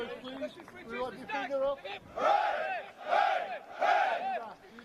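Supporters at an American football Division 2 championship between the Highland Stags and Bristol Apache shout and chant in three loud, rhythmic bursts after a stretch of talking voices.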